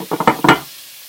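Garlic browning in olive oil for aglio olio pasta gives a short, close burst of stirring scrapes and sizzle that fades into a quiet hiss within a second.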